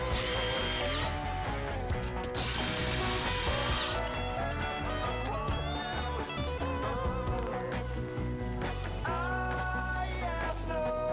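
A hand ratchet backs screws out of an RV window frame, with rapid, close metallic clicking that comes in repeated strokes over about eleven seconds, and nobody speaking.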